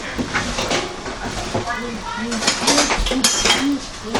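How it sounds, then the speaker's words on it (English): A pot of eggplant for an eggplant and codfish stew being stirred, with repeated metallic scraping and clinking of a utensil against the pot, close and moderately loud, with speech throughout. "So I'm going to give this eggplant a stir."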